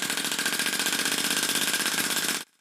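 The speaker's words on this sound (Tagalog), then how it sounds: "Tumatakbo pa rin ang makina pero sa slow motion na kuha." A homemade air engine runs steadily with a dense, fast mechanical chatter and hiss that stays even and loud, then cuts off abruptly near the end.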